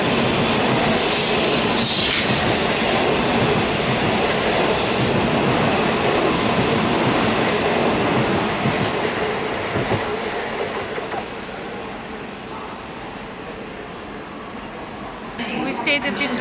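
A Japanese bullet train departing a station rumbles steadily nearby with a dense, continuous roar that slowly eases, then a brief rise in noise near the end.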